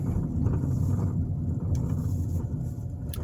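A car driving down East 11th Street in Bloomington, Indiana, heard from inside: a steady low road and engine rumble with wind noise that stays even throughout, and no talking.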